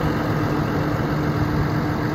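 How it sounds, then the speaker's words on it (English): The Cummins 6.7L turbo diesel in a 2014 Freightliner M2 Horton ambulance idles with a steady, loud, low rumble and an even mechanical chatter, heard alone without pauses. "Cummins turbo diesel sounds great."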